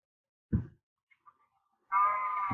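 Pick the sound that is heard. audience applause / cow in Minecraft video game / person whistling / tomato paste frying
cow in Minecraft video game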